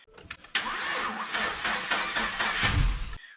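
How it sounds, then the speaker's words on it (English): A car with a dead, low battery cranks slowly, the starter laboring in a steady, sluggish rhythm for about three seconds at close range after a brief click, then cutting off without the engine catching. "your car will have a slow crank"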